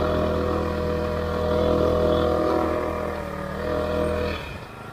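A 50cc four-stroke ChinaPed X5 stand-up scooter engine runs under a rider, a steady buzzing drone with a sustained tone that swells slightly and then drops off near the end.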